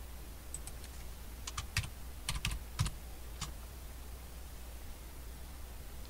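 A few quick bursts of keystrokes on a computer keyboard, soft clicks clustered in short runs over a steady hiss, quiet and without talk.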